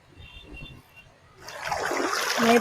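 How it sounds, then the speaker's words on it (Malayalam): Water trickles in a small rocky stream running low after little rain, a steady wash that grows louder and fuller partway through and continues alone without talk. "തോട് തോട്ടിൽ വെള്ളം കുറവാണ് കേട്ടോ"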